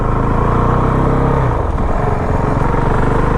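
A 2019 Honda CRF450L dual-sport motorcycle engine revving under throttle, loud and close, with a steady rumble that briefly dips and climbs again across a few seconds.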